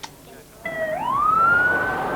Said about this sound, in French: J'entends une sirène de police.